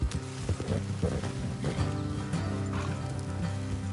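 Horse whinnies and hoof clip-clops over a steady, busy game-like ambience with low music in Red Dead Redemption 2, continuous and fairly loud throughout.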